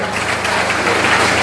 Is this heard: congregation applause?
yes